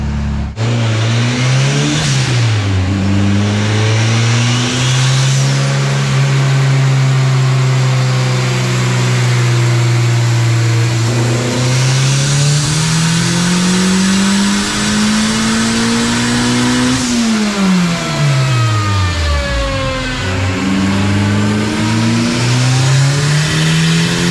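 A turbocharged Honda K24 car engine revs loudly and continuously, its pitch climbing, dropping and rising again through the gears, with a sharper, harder note at high revs as VTEC engages.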